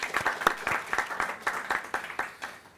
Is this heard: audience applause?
yes